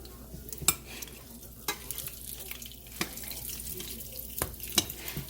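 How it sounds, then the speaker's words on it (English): Creamy coleslaw is mixed in a bowl, giving soft, wet scraping and stirring strokes with a few sharper knocks, close and fairly quiet, with no talking. "I'm going to mix this down."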